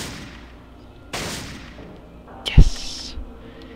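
Gunfire in the classic Fallout video game, a single sharp shot with a brief echoing tail following a couple of softer game sound effects, moderately loud with no talk over it.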